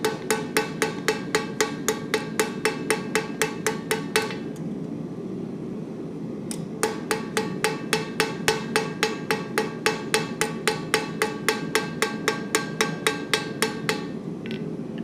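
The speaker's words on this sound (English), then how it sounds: "What I'm doing now is called plenishing, rounding it and smoothing it." A hammer planishes metal to round and smooth it, striking in a steady fast run of bright ringing blows that stops for a couple of seconds, then resumes at the same even pace.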